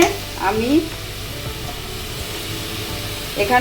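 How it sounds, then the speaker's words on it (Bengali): Minced chicken with spices being stirred in a hot pan, a steady close sizzle with a few scraping strokes of a spatula at the start and end. "এখন একটু মশলার সঙ্গে চিকেনটাকে মিশিয়ে নিলাম।"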